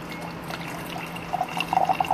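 Pi Lo Chun green tea poured into a vessel during a tasting, a soft, faint liquid trickle that turns into a run of light splashing drips toward the end, with no talking.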